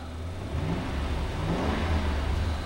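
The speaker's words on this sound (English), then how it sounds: "I'm gonna rev the engine." A 2008 Toyota Tundra CrewMax pickup with about 95,000 miles revs up from idle, its engine note rising and swelling in a steady, close roar for a few seconds with no talking.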